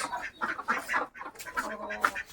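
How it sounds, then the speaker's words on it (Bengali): Chickens and ducks in a yard cluck and quack in short bursts, close by and busy, overlapping one another. "দেখেন এই যে তো হাঁস মুরগিগুলো"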